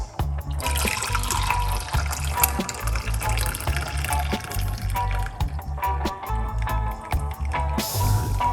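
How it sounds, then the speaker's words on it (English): Garlic and lemon tea pours steadily with a continuous splashing, gurgling stream, close by, ending with a brief louder rush. "pour it out like this"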